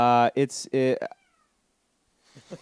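A domestic cat gives a few close, loud meows in quick succession, then goes quiet, with faint voices returning at the end.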